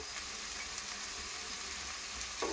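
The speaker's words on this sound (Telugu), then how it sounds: "ఆనియన్ తొందరగా ఫ్రై అవుతుంది పసుపు వేసుకుంటే." Onions sprinkled with turmeric fry in a pan for a boti curry, producing a quiet, even hiss of sizzling oil across the brief moment, alone without speech.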